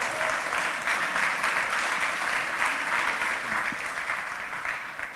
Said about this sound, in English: So maybe we just give a round of applause for the organizers?